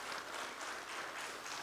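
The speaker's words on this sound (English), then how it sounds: "A huge round of applause" Event audience applauding, a steady wash of many hands clapping that carries through without a break, heard from some distance and fairly faint.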